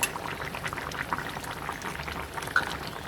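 A pot of curry bubbles at a steady boil, with a soft splash or two as fish is added, close and continuous without voices.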